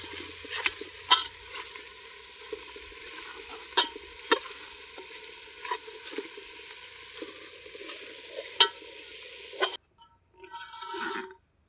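Forest chicken with salt being stirred in a pot over heat, a steady sizzle broken by repeated sharp scraping clacks of the spoon at irregular intervals, close up, ending abruptly in near quiet.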